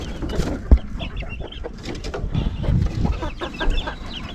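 Egg-laying hens in farm pens cluck and squawk in a steady, overlapping chorus, close by and fairly loud, with no talk over them.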